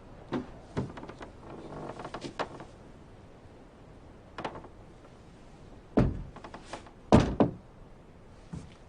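A door opening and closing, with soft thunks and a couple of louder knocking bumps near the end, close by and fairly quiet, no voices.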